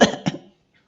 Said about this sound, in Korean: 이제는 기침도 제대로 못합니다.